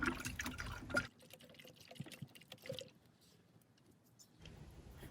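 Water in a container is stirred gently by hand, giving soft sloshing and dripping sounds, quiet and close, with a brief pause in the middle before the swishing resumes.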